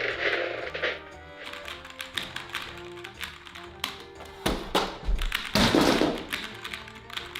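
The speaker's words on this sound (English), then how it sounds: "Why settle for clacks, clunks and jams?" Keyboard keys clack and clunk in quick, irregular bursts of sharp taps with a few heavier thunks, close and fairly quiet, with soft music underneath.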